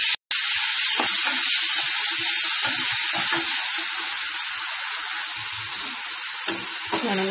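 About 200 grams of chopped small onions, or shallots, sautéing in a pan: a loud, dense, continuous sizzle that starts abruptly and holds steady throughout, with occasional faint stirring and no voices.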